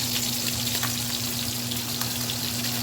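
Salmon fillets searing in a pan on medium-high heat produce a steady, dense sizzle with small crackling pops, close and continuous throughout with no talking.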